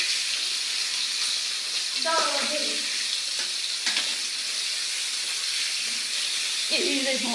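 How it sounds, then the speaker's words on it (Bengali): Tangra fish frying in a pan in a village kitchen, a steady loud sizzle running throughout, with a few brief voices cutting in near the start, middle and end. "ট্যাংরা মাছটা ভাজা হয়ে গিয়েছে"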